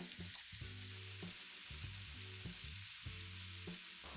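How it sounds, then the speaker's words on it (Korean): Bacon and onion fry in oil in a heated pot. A soft, continuous sizzle is broken by repeated stirring scrapes and knocks, with no voices. "달궈진 냄비에 식용유를 두르고 베이컨과 양파를 볶아요"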